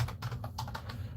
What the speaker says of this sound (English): Here, I'll type it into the chat.